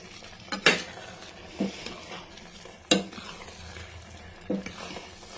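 Spoon stirring a rava laddu mixture of semolina in syrup in a metal pan, several distinct scraping clinks against the pan at irregular intervals over a soft, faint sizzle.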